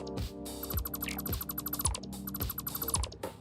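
Build gun in the factory game Satisfactory making a rhythmic mechanical chirping, quick ratchet-like clicks with a bright high tone repeating in regular bursts, fairly quiet and without talk.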